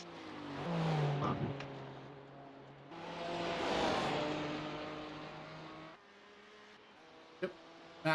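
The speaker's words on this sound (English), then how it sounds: "Sometimes with the engine revving" GT4 race car engine revving, rising and falling in two long surges followed by a quieter idle, with a brief sharp knock near the end.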